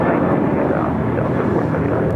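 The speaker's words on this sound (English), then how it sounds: "757 going around here on the south side" A Delta Boeing 757 airliner going around over the south side of LAX. Its jet engines give a steady, loud, broad roar that holds even for the whole moment, with no voices.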